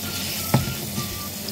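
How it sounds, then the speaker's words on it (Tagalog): Minced pork sizzles steadily in hot oil in a frying pan, a close, continuous crackle with a brief louder hiss as it hits the pan. "Pag mainit na po ang mantika, ilagay na po natin yung ating minced pork."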